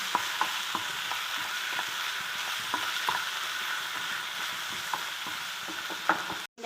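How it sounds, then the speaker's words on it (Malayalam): Chicken pieces being stirred and fried in a pan for Indian-style macaroni pasta, a continuous sizzle with regular scraping strokes of the spoon, close and fairly loud, no voices. "ഇനി നമുക്ക് ചിക്കൻ ഇട്ട് കൊടുക്കാം. നല്ലോണം ഇളക്കി കൊടുക്കാം."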